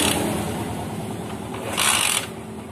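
Honda GL Max motorcycle engine being kick-started, a steady mechanical whir and clatter running throughout with a brief louder burst near the end, close and alone without talk.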